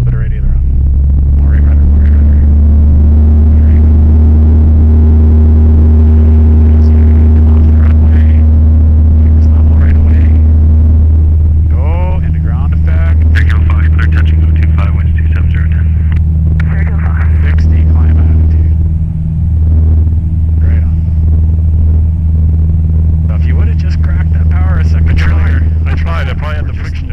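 A Cessna 172 engine roars loud and steady at takeoff power during soft-field operations, with people talking over it throughout.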